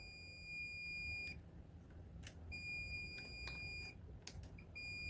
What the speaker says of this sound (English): where's the beep? All right, there's our continuity.